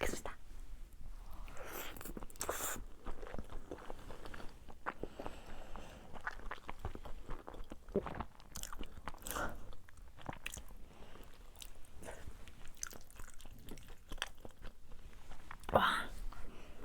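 Someone eats egg ketchup rice and yukgaejang cup ramen, with close, steady chewing and biting sounds running throughout and occasional soft breaths or quiet vocal noises.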